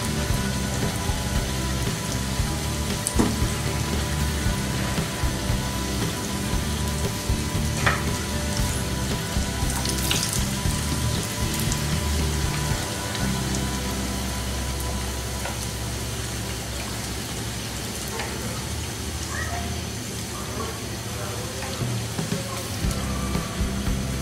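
Fuchka puris frying in hot oil, a steady close crackling sizzle like rain on a surface, continuous throughout with occasional sharper pops and faint stirring.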